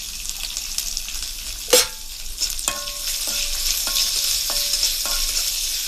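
Chopped onions fry in a pan for a Kerala breadfruit stir-fry, a steady soft sizzle with a sharp clink of a spoon against the pan and a few light ringing taps as they are stirred.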